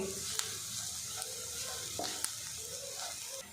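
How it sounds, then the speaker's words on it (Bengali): Jackfruit seeds and onion fry in a pan with a steady, fairly quiet sizzle, punctuated by a few sharp clicks of a spatula stirring and scraping the pieces. "বেশ কিছুক্ষণ নাড়াচাড়া করে কাঁঠাল দানাটা ভাজা ভাজা করে নেব"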